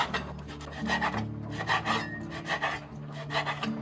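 A knife slices thick-cut bacon on a board in a home kitchen, making a series of close, rhythmic rasping strokes with no voices.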